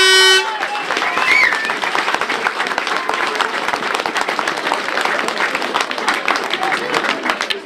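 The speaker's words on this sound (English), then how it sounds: "a special round of applause for the people that organised this" An audience at a junior hurling championship final claps in sustained, dense applause that starts abruptly and holds steady, with a car horn tooting briefly near the start and voices mixed in.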